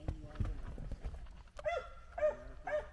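A dog barks three times, fairly close and moderately loud, following a stretch of people talking at a campsite.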